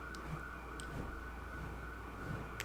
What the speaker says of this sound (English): Not the sirens in the background.